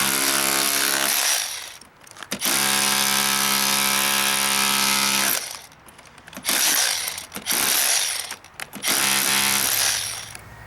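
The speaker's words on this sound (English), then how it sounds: "you can go ahead and chip concrete" Milwaukee M18 FUEL SDS-Plus cordless rotary hammer, model 2712, chipping concrete with a bull point: loud, close, rapid hammering bursts that stop briefly and restart several times, with no talk.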